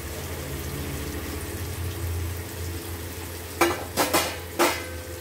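Pieces of rava fish frying in oil make a continuous close sizzle, and near the end a few sharp bursts of louder spattering and clatter come as the pieces are moved in the pan.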